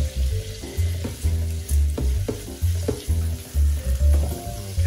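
Garlic frying in butter and olive oil in a saucepan, a steady close sizzle broken by regular rhythmic scrapes and stirring strokes roughly every half second, loud and without talk.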